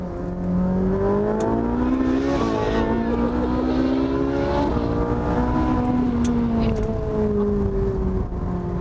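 A Ferrari 458 Italia accelerates hard from 80 to 160 km/h, its engine note climbing loud and close through rising revs, with a brief dip at a gear change and a sustained high-pitched wail.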